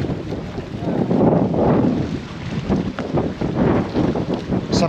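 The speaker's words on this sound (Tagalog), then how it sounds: "Sarap ng hangin dito sa boulevard." Strong wind gusting across the microphone on a seaside boulevard, a continuous loud roar and buffeting with no clear breaks throughout.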